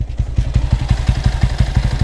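A motorcycle engine runs up close with a rapid, even low chug like a fast idle, its thudding pulses steady and fairly loud across the short stretch.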